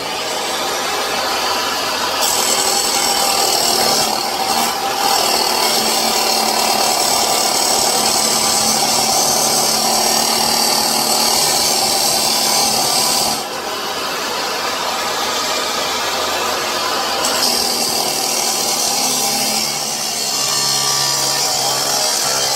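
A DeWalt metal chop saw with a 10-inch DW8005 abrasive cutoff wheel spins up with a loud motor whine, then bites into metal with a harsh, hissing grind that swells and eases over several passes before winding down, with no speech.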